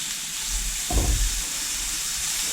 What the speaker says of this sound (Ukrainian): Відправляю цибульку та буду обсмажувати.